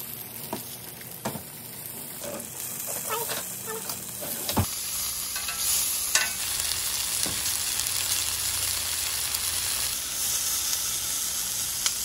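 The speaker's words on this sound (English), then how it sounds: "we have our nice and greasy iron skillet. And we're gonna go ahead and start adding our tomatoes, jalapenos, onion, everything to it" Tomatoes, jalapeños and onion hitting a greasy iron skillet, a few knocks and clinks of handling followed by a sudden loud, steady sizzle and crackle of frying that continues close up.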